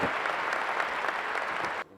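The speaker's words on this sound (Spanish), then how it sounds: "Brindamos un muy fuerte aplauso, muy merecido" Applause from a conference audience at an academic talk, dense steady clapping filling the room and then cutting off abruptly near the end.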